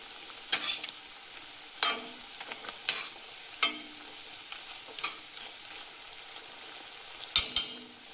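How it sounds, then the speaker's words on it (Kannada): Grated raw potato for sabudana vada frying on a low gas flame while a spoon stirs it, giving a steady soft sizzle broken by scattered scraping clacks against the pan. "ಗ್ಯಾಸ್ ಸ್ಟವ್ ಸಣ್ಣಗೆ ಇಟ್ಟು ಹೀಗೆ ಕೆಂಪು ಆಗುವ ಹಾಗೆ ತಿರುವಬೇಕು"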